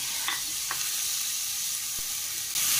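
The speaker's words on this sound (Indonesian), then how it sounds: "Tumis sampai setengah matang" Crab meat stir-fried in a pan, a steady close sizzle with a few scraping stirs of the spatula and no talking.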